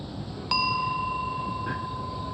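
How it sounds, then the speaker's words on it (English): A meditation bell is struck once, a clear close ding that rings on as a long, pure, slowly fading tone over quiet room noise. "I'm going to ring this bell first."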